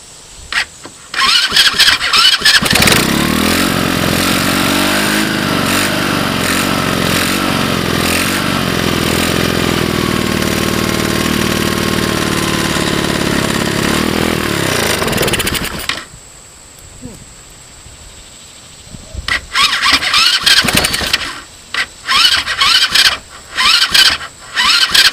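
A China-made 110cc motorcycle engine cold starts on choke and runs steadily for about thirteen seconds, then cuts out. Uneven sputtering revving follows, and a person speaks briefly near the end.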